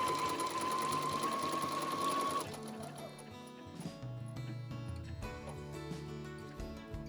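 Sewing machine running a back stitch, a fast steady whirring hum for about two seconds, then slower, uneven stitching and mechanical clicks as the needle moves through the fabric.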